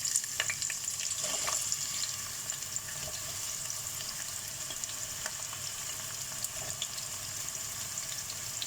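Onions sizzle in hot oil in a pot while mutton nihari is being made, a bright continuous frying hiss close by, with a few stirring clatters near the start and no talk.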